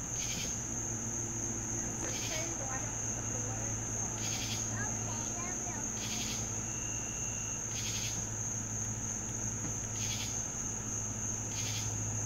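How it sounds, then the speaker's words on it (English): Cicadas fill the air outdoors with a steady high-pitched drone and rhythmic pulsing bursts that repeat every couple of seconds. Faint voices murmur underneath. "Hear the cicadas?"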